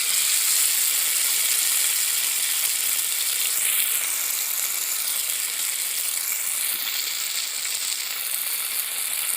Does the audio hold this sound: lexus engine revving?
no